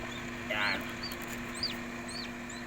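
Shamo, plucker and Peruvian chickens calling in a coop, with a short cluck and brief chirpy peeps over a steady background hum, fairly faint and without talk.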